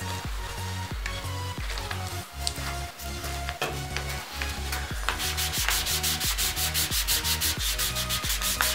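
Rhythmic back-and-forth rubbing as a rag soaked in acetone scrubs old grip glue residue off a quad bike handlebar, steady close scraping strokes that speed up toward the end, no voices.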